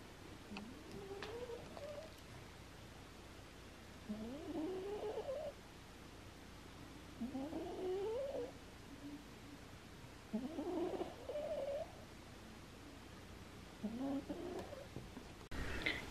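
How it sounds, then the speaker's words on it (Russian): A sleeping cat purrs softly and close, in slow rhythmic breaths with a rising throaty rumble every few seconds, quiet and otherwise undisturbed. "Я хочу, чтобы вы послушали, как спит мой кот."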